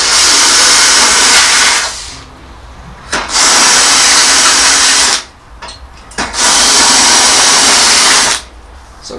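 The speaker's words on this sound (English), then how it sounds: "use a spot weld cutter and get these out" A spot weld cutter drills out the spot welds holding the roof panel on a BMW E92 body shell, in three loud, sustained grinding bursts separated by short pauses.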